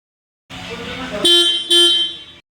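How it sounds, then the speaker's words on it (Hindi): Horn of a TVS iQube S electric scooter sounding two short, loud toots in quick succession, close by, after a brief burst of other mechanical noise, with no talking over it. "एक बार आप इसके हॉर्न की आवाज सुन लो।"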